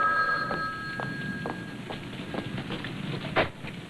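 Old telephone bell ringing in a room, a series of short rings at about half-second intervals, fairly loud and close with steady background hiss.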